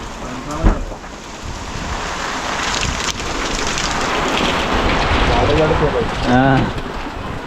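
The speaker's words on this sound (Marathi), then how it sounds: "फायनली मंडळी मोठा पाऊस आलाय" Heavy monsoon rain with big drops falls in a Konkan village. There is a loud, steady hiss of rain, with a brief thud near the start and some gusty wind noise.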